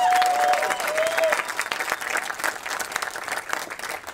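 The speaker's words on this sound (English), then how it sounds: "give yourselves a round of applause for coming out today" Audience applause at an outdoor border wall ceremony, a steady crowd of clapping hands throughout, fairly loud and continuous, with a brief whistle-like tone near the start.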